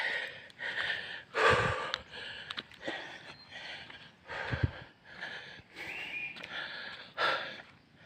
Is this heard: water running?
no